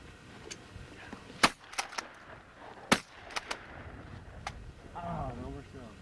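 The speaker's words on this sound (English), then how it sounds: "You didn't shoot, Craig." Shotgun shots fired during clay target shooting, with several sharp, loud cracks spread across the stretch and people talking between them.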